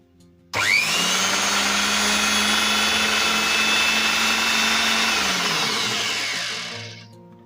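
DWT KGS11-255 miter saw switched on without a blade fitted, its motor jumping straight to a loud steady whine that holds for several seconds, then spins down as it is switched off, close and alone.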